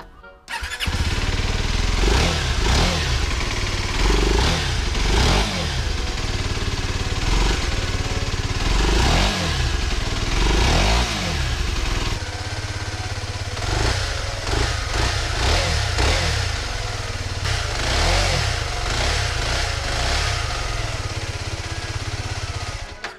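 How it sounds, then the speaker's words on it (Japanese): An Aprilia RX125 motorcycle engine with a homemade air filter element cranks and catches, then idles and revs repeatedly in rising and falling bursts, loud and close, running steadily throughout. "エンジンかけてみましょうか。"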